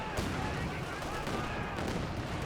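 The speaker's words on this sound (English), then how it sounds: "Katusha barrage draining on in" In the Company of Heroes 2 video game, a Katyusha rocket barrage lands amid gunfire: a dense, rumbling wash of overlapping explosions and shots that fills the whole moment at steady loudness.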